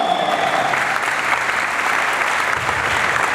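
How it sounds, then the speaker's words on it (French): An audience at a hypnotist show in Abidjan applauds Isabelle with steady, dense clapping, a continuous wash of hands from a large crowd with no pause. "On l'applaudit bien fort"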